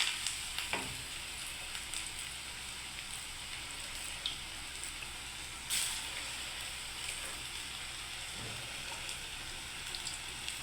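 Jackfruit fritters frying in oil in a pan, a constant crackling sizzle with occasional sharper pops and spatters, close and moderately loud with no talk.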